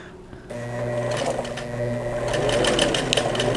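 A sewing machine stitches buttonholes on a pair of summer shorts, running steadily and close after a brief quiet start, with rapid needle chatter and a motor hum that build slightly in loudness.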